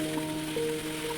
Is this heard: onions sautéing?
yes